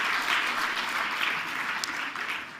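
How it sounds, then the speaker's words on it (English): Applause from an audience at a science awards ceremony honouring A-rated scientists, a dense sustained clapping from a full room, steady and fairly loud, tapering slightly at the end. "let's give a round of applause to all our A-rated scientists"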